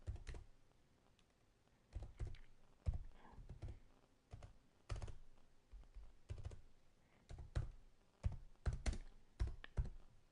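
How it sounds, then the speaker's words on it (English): Computer keyboard typing, close and quiet, in uneven bursts of clacking keystrokes with pauses between, growing busier toward the end. "I'm over here typing"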